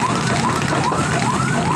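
Fire engine sirens wail continuously at a blaze in a dense residential neighborhood in Kemayoran, Jakarta, loud and close with repeating rising tones over a roar of background noise.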